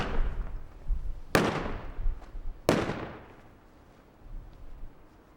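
A ceremonial rifle volley at a Vietnam Veterans Day ceremony outdoors: two sharp, loud shots about a second and a half apart, each ringing out with a long fading echo over low background noise.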